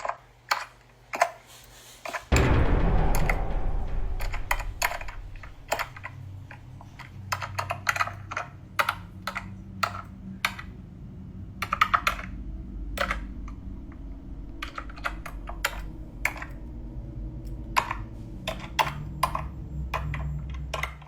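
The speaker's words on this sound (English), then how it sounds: "the unmistakable sound of someone typing on a keyboard, steady and deliberate, in a completely dark and otherwise silent room" Steady, deliberate typing on a computer keyboard in a dark, otherwise silent room, crisp individual key clicks in a rhythmic run after a brief rumbling thud, close and alone.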